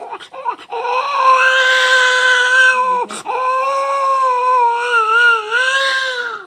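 A voice imitates a child's wailing cry, with sustained, wavering sobs broken by a brief pause in the middle.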